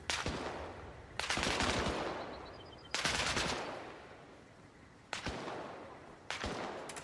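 Gunfire in the military shooter ARMA Reforger: several sharp, loud shots or short bursts spaced a second or two apart, each trailing off in a long rolling echo as if outdoors, with no talk.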